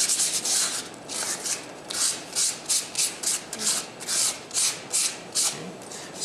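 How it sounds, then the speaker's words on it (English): Sandpaper rubbing the surface of a plaster face lifecast, about a dozen short rhythmic scratchy swipes close up, with no talking. "after a few swipes of the sandpaper, now that surface is significantly smoother"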